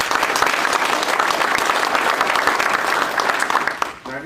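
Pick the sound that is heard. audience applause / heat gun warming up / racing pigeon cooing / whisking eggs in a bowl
audience applause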